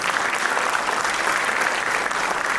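Parents and guests applaud at a school annual day event, a dense, even wash of clapping that stays loud and constant from start to finish.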